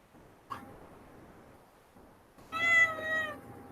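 A cat meows indoors: a short chirp first, then a longer, clear meow near the end, close and distinct against a quiet room.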